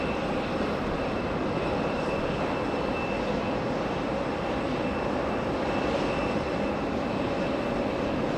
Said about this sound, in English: The next arrival, American 234 from San Francisco.